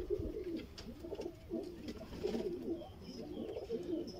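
Sialkoti pigeons on a rooftop coo softly in repeated rhythmic bursts, close but quiet, with faint ambient noise and no talk.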